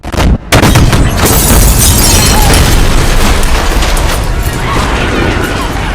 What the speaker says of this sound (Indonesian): tiba-tiba saja mobil sedan yang terparkir di sana pun meledak.